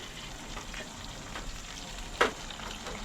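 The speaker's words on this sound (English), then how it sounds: "Some people can hear that sound. Saltfish are fry up." Saltfish frying in a pan with plenty of scotch bonnet pepper, a steady close sizzle with one brief clatter partway through, no talking.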